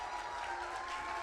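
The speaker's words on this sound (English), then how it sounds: "Ladies, can you give our men a round of applause as they come on" Faint, steady clapping comes from a luncheon audience applauding men as they come up, a brief continuous patter with a soft crowd murmur beneath.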